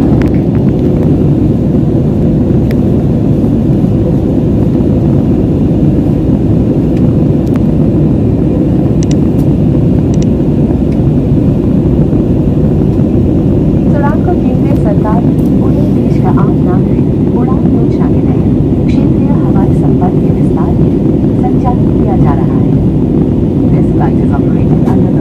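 A steady, loud roar of an airplane taking off from Kolkata's Dum Dum airport, a dense engine rumble that holds for the whole stretch with faint higher tones later on.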